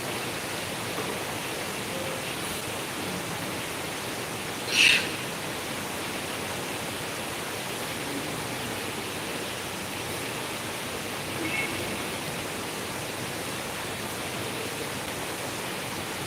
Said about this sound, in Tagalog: Ang lakas ng ulan sa labas.